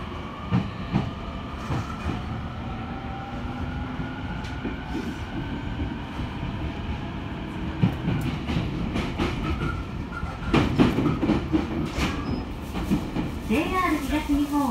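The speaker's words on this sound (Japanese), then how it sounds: "プロイス発宇都宮行きの宇都宮線上り最終列車が入線してきました。" JR Utsunomiya Line last up train bound for Utsunomiya pulls into a station, with steady rumble, rail noise and clicking wheels, a brief squeal near the end, and faint background voices.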